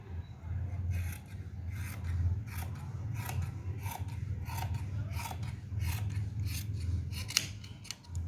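Scissors snipping through fabric for a shalwar, a close run of repeated crisp cuts with a rasping rhythm over a low background hum, no speech.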